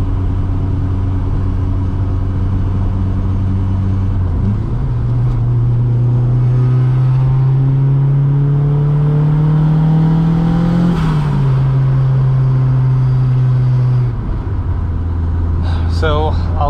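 A VW Mk2 GTI with a turbocharged 1.8T engine, a 76mm exhaust and an untuned VVT revs up and holds, its drone rising with a wavering, surging turbo noise before it drops back. A brief faint whistle follows near the end.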